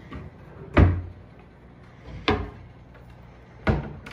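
Three separate thumps of drawers sliding shut, spaced a second or so apart, close and fairly loud against a quiet room.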